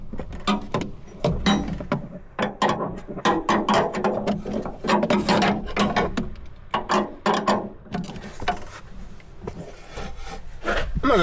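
A ratchet turns a bolt on a Kubota L3301 tractor during a clutch job, giving quick close runs of clicking strokes in bursts across about eleven seconds with brief pauses and metallic handling noises.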